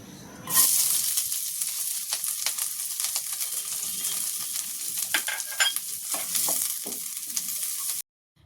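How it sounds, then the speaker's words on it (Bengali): Boiled flat beans hit hot oil with a sudden sizzle that continues as a bright crackling fry, with scraping stirs in a wok, then stops abruptly. "ওই শিমটা যে সিদ্ধ করে রাখলাম ওইটাকে তেলে দিয়ে দিব"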